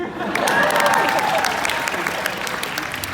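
A crowd at a Destination D23 park stars panel in 2021 breaks into cheering and sustained applause that swells early and tapers off, while a presenter's voice carries over the noise.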